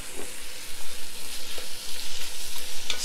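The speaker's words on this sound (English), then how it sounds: "so I'm gonna go ahead and add all my tomatoes." Tomatoes hit a hot, spiced pot of Georgian chicken stew (chakhokhbili) and sizzle loudly, with pulsing stirring scrapes close by and no talking.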